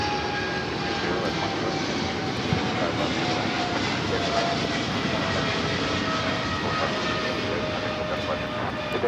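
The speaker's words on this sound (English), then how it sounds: "This is DHL operated by Polar Air Cargo 992 taking off to Cincinnati on the 777 freighter" A DHL Boeing 777 freighter run by Polar Air Cargo takes off at LAX with a loud, steady jet roar and a thin whine that holds throughout, while a voice talks faintly underneath.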